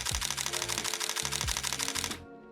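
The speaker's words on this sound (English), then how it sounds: "So when you have this in high shutter mode, you are able to shoot up to 8 frames per second." A Canon EOS-1N 35mm film camera in high-speed mode fires its shutter in a rapid, even burst of about eight frames per second, the mechanical clatter loud and close before cutting off abruptly.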